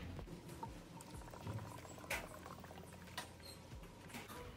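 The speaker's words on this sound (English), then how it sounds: "I will add the same amount of this isopropyl alcohol to the water." Isopropyl alcohol poured into water in a spray bottle, a faint trickling patter with small splashes and a couple of sharp clicks, close by and quiet, with no talking.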